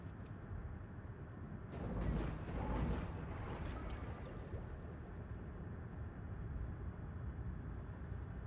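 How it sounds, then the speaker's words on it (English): Submarine struck by a couple of torpedoes in World of Warships, a deep rumbling blast that swells over a few seconds then settles into a steady low underwater roar, loud and alone. "I got hit by a couple torpedoes."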